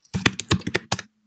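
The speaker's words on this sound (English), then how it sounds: "Somebody's typing." Someone typing on a computer keyboard during a remote board meeting, a quick run of close, crisp key clicks in an irregular rhythm, a short pause, then one more tap.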